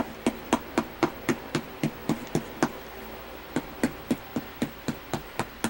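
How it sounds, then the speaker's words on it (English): A fork jabbing holes into homemade pizza dough on a hard surface, a steady series of sharp, close knocking taps repeating about three per second, with no talk. "So now I like to grab a fork and just poke it full of holes."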